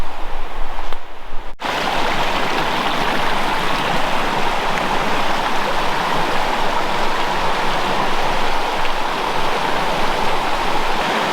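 A brook flowing through hillside woods in Connecticut, a steady, loud, close rush of water that holds without a break after a brief dip near the start.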